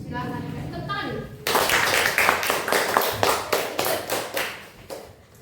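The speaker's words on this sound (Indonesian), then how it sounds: "Tepuk tangan dulu." A school class claps hands in response to a teacher, a burst of sharp, rhythmic claps that starts abruptly after a voice speaks, then settles into a steady beat that fades toward the end.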